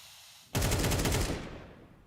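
An AK rifle fires a single sharp, close burst of rapid automatic shots during an esports video game match, then the sound trails off into a fading echo.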